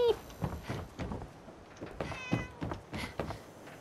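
A cat in the video game Fallout 4 meows several times, fairly faint, with short soft calls spaced across a few seconds.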